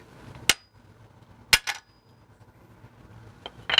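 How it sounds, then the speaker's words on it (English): A hammer strikes a chisel set on the glued seam of a CA-glued inside-out turning blank to split it apart: three sharp, separate metallic knocks, with a double tap near the middle and a final clustered hit, in a quiet room. "Chisel, hammer, just line up your chisel right on the seam"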